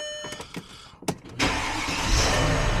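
A 1997–2014 Mercedes car engine cranks with a few short starter bursts, then catches and settles into a steady, loud, close idle, started with a newly programmed infrared key.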